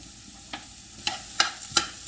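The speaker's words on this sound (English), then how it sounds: "just saute those vegetables a little bit." Vegetables sautéing in a pot for seafood gumbo, with a low steady sizzle and a few sharp stirring scrapes spaced about every half second.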